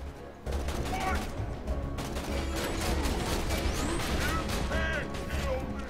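Rapid gunfire and impacts in the video game Borderlands 2, dense bursts of shots with crashes throughout, heard alongside game sound effects and occasional voice.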